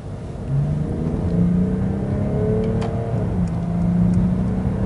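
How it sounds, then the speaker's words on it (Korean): A Mercedes diesel car engine revs at high RPM with a smooth, rising and falling hum. It holds at a steady, fairly loud level throughout, with no one speaking over it. "이 차의 고RPM에서 나는 이 회전질감과 이 사운드는 이거는 그냥 이게 어떻게 디젤이냐고"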